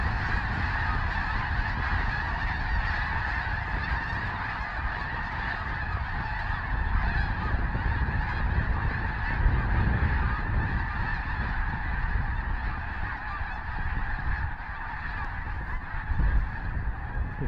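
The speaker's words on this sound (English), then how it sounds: "just driving by a lake here, and there's several thousand snow geese on it." A flock of several thousand snow geese lifts off a lake in Alberta, a vast wall of layered honking that is loud and unbroken throughout, rising and falling slightly as the birds take to the air.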